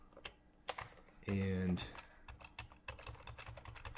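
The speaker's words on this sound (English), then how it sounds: "if I start typing the word house" Keys clatter on a computer keyboard in a run of quick, uneven clicks with a short burst of another tone partway through, and a voice speaks briefly among the taps.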